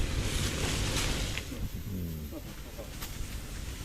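A neighbor's new power sprayer hisses in a broad, steady, windy rush outdoors while spraying, with people talking over it.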